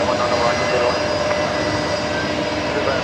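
Jetstar airliner lining up at Brisbane Airport in the evening, heard as a steady, distant jet engine roar that holds at an even level throughout with no voices.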